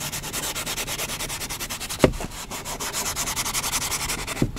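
A clean cloth rubs LAVR plastic polish-restorer into a plastic surface, making a steady, close rhythmic swishing of quick back-and-forth strokes with a couple of sharper knocks, and no talking.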